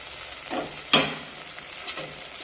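A spoon stirs chili powder and chicken masala into hot oil, giving a few soft scraping strokes with one sharper clink and a faint sizzle underneath, close and quiet.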